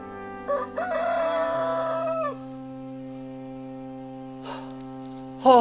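A rooster in a 1790s frontier setting crows loudly and close, a long cock-a-doodle-doo lasting about two seconds, followed by quieter hum and the start of another crow near the end.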